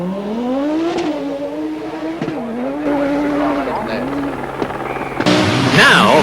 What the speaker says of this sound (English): Down the straight. Let's see just what sort of speed. 98. The Audi of Walter Röhrl